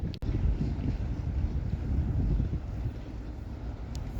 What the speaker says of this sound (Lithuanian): labai šaltas vėjas